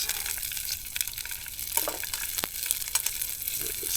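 Asparagus fries in grease over a campfire and gets stirred, a steady close sizzle and crackle with occasional scrapes and pops, and no voices.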